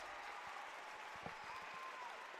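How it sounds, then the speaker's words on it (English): Applause at a swimming meet for a 13-14 boys 200-yard backstroke meet record: a distant crowd claps steadily, faint and diffuse in the pool hall. "He gets a nice round of applause, deservingly so."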